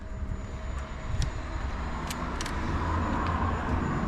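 A used DRD Pro 50cc motorbike engine runs with a steady low rumble that swells a little louder partway through, alone without talk.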